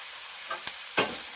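Vegetable pulao mixture with coriander stirred and sautéed in a kadhai, a steady close sizzle with two brief scraping strokes of the spoon.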